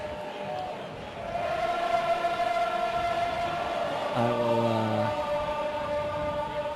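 A crowd cheers outside during the final of a women's ultimate frisbee championship between Japan UNO and San Francisco Fury, a continuous muffled roar heard from inside a booth, with sustained horn-like tones rising through it.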